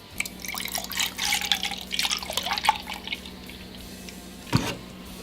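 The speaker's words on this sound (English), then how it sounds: "I dumped the milk in there" Milk poured into cake batter in a bowl, a soft liquid splashing and trickling with small drips for a few seconds, close and moderate, then a single sharp drip or tap near the end.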